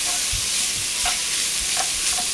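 Meat browning in a pot for Zuppa Toscana soup, a steady close sizzle with a few soft scrapes of stirring, no voices.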